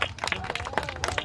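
A small group of people applaud at an outdoor preaching gathering among Roma families in Romania, a brief burst of brisk, close clapping.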